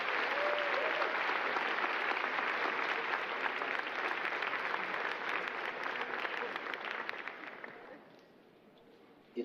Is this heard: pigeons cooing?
no